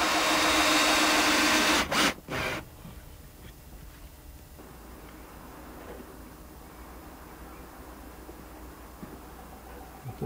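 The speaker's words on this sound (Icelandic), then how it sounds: "Bora þetta og skrúfa." A power drill or driver runs loudly for about two seconds while drilling and driving a screw into the wooden bottom of a homemade planter box built from scrap wood, stops with a few brief bursts, then quiet workshop noise follows.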